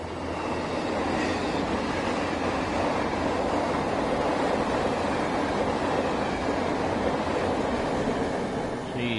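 A Metro North train on the Northeast Corridor in the video game Train Sim World 6 rushes past with a steady, loud rumbling roar and wind-like rail noise that holds throughout.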